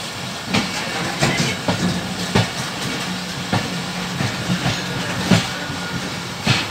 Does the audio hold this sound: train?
yes